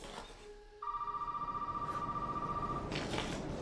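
A telephone rings in the horror game Resident Evil VII, a steady electronic tone sounding for about two seconds over faint rumbling ambience, moderately near and fairly quiet.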